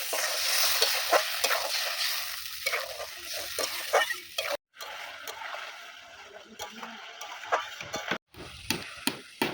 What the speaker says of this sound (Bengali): মশলা কষানো হয়ে গেছে, এবার জল দিয়ে দেবো অল্প।